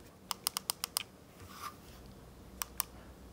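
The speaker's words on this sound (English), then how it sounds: "Start and select are clicky." Clicky start and select buttons on a Retroid Pocket Flip handheld are pressed in a quick run of six crisp clicks, then two more after a pause, close up and alone against faint room noise.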